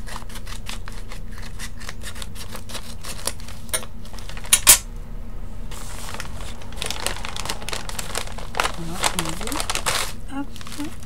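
Paper crinkles and rustles in bursts as a surprise mail package is opened by hand, with a few sharper snaps and a person talking throughout.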